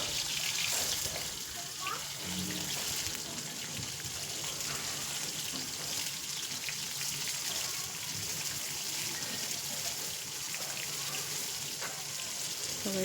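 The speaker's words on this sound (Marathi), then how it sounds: "मस्त कारले असे तेलामध्ये ना 1 मिनटासाठी चांगले असे परतून घ्यायचे" Bitter gourd pieces fry in hot oil with a steady, moderately loud bubbling hiss that runs evenly from start to finish, with faint kitchen clatter behind it.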